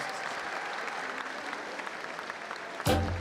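Audience applause rings out after a blues dance at a Slovenian school graduation ball, a steady mid-distance clapping that holds throughout, with a sharp loud knock near the end.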